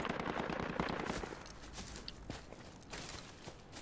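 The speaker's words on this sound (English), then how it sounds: "we got shots coming from west, close of us" Dense rapid gunfire in the shooter game Project Reality, fast overlapping shots at the start thinning to scattered cracks, loud and continuous with no voices.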